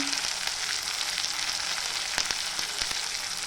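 Chicken sizzles in hot oil with coriander powder, chilli powder, black masala and garam masala, a dense continuous frying hiss with a few sharp clicks and pops, close up and without voices.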